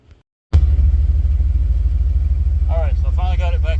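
A 1989 Chevrolet Silverado OBS pickup's engine starts abruptly after a brief quiet and settles into a loud, steady, rumbling idle close by, with a person talking over it near the end.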